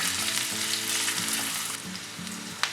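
Green chillies sauté in hot oil for tomato rava bath with a loud, continuous sizzle. A faint low hum runs underneath, and a single sharp clink comes near the end.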